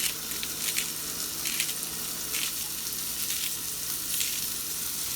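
A big steak frying in a pan with ground cumin and salt, a loud steady sizzle with small crackling bursts, close and continuous.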